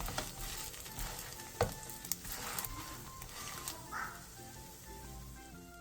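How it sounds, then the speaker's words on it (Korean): Fish cake pancakes pan-frying with a continuous bright sizzle and crackle of oil, with a few light clicks and taps from a utensil and no talking. "바닥이 노릇노릇해지면 뒤집은 뒤 뒤집은 쪽도 마저 노릇노릇하게 부쳐주세요."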